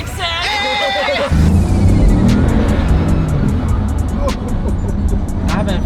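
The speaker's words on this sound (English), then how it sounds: "I haven't felt this car drive like this in probably 6-7 years." Car driving hard and accelerating, with a sustained loud engine roar and road rumble building after a brief higher whine at the start, close and continuous, with faint voices in the background.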